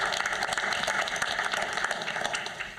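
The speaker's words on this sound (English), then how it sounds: "I think that it deserves a round of applause." Audience applause at a school board meeting, a dense, steady patter of many hands clapping that stays level for a few seconds.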